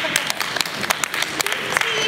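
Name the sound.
audience applause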